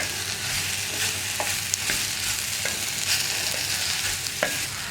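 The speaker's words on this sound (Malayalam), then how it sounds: "ഇനി നമുക്ക് ഈ വേപ്പിലയും കൂടി ചേർത്ത് ഇളക്കി കൊടുക്കാം." Curry leaves are stirred into an okra and egg thoran in a pan, giving a steady close-up frying hiss with occasional light clicks of the spoon against the pan. No voices are heard.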